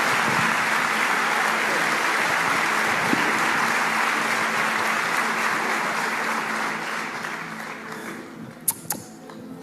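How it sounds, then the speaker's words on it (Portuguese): Church congregation applauds for Pastor Marco Feliciano in a long, full roar of many hands that holds steady, then fades near the end, leaving a few scattered claps. "Quero que você aplaude ao Senhor pela vida do pastor Marco Feliciano."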